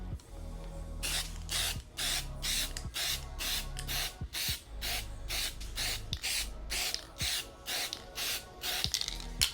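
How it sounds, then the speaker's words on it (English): A spray paint can sprays onto a denim jacket in many short hissing bursts, close and fairly loud, in a quick irregular rhythm after a moment of low hum. "Time to start the spraying process."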